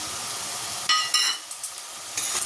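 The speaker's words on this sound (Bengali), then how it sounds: "দিয়ে ভালো করে মশলাটাকে কষিয়ে নেব" Ground spices with turmeric, cumin, Kashmiri chilli powder and sugar fry in a pan while broccoli is cooked, giving a steady close sizzle with a few brief louder crackling bursts and light stirring clinks.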